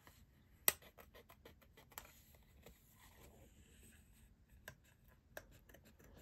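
Scissors cut around a stamped floral image for a handmade card, making quiet, irregular little snips and ticks close by with one sharper click early on and no talking.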